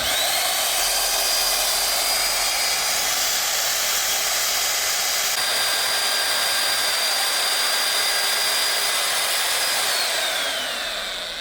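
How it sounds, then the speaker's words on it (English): Magnetic drill running a slugger annular cutter to clean up a bore hole in a massive mining dump truck track rod, a loud steady high-pitched whine and grinding throughout, close and continuous with no talk. "I'm just going to see if I can clean that hole up a little bit more with the slugger."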